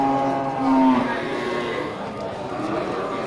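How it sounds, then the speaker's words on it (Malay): Aceh bull cattle at a busy rural cattle market in Aceh, with a loud nearby moo rising over background chatter and market noise while people talk throughout. "terlihat satu ekor sapi Aceh jantan ini sudah siap potong"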